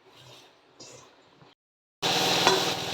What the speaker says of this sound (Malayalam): ഇതൊന്ന് മിക്സ് ചെയ്യുവാണേ